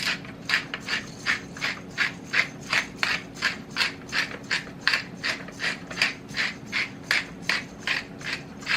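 A hand pepper grinder cracks black peppercorns in a long run of about thirty quick, even ratcheting grinds, close and fairly loud, with no talk over it.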